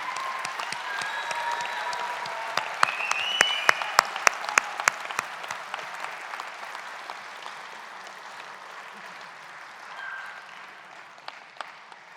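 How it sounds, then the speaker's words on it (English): Audience applause at a university graduation ceremony, a steady wash of many hands clapping with a few sharper nearby claps. It fades gradually toward the end. "join me in a round of applause to say thank you to those who have helped you reach this important milestone"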